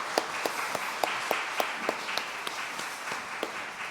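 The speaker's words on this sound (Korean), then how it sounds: "하나님께 영광 박수 올립니다" A congregation claps together at a Korean church dawn prayer service, steady rhythmic hand claps at a moderate, even tempo, somewhat distant and alone.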